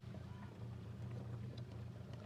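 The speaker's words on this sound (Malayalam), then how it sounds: "പക്ഷെ കാറ്റ് അവിടെ നിന്ന് ഇങ്ങോട്ടുണ്ട്" Wind blows steadily into the microphone beside a backyard pond, a constant low rumble and buffeting that never lets up.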